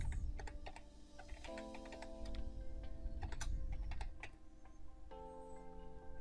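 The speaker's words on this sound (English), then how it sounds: "I'll type it in here" Typing on a computer keyboard while entering an email address into a registration form: a steady run of close, light key clicks with an even patter, heard alone over a soft background hum.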